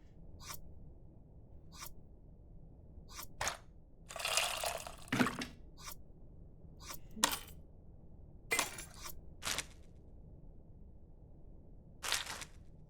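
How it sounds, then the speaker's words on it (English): Tamarind being mixed with water in a bowl in the cooking video game Venba: a scattered series of short wet splashes and squishes, some brief and some longer, spaced irregularly and close, with no talking. "Looks like I have to mix the tamarind with the water to extract its essence multiple times."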